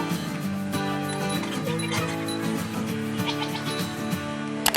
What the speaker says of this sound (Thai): นี่ค่ะเรามาเจอแกะดำด้วยเขาบอกว่านำเข้าจากสวิตเซอร์แลนด์ด้วยนะคะ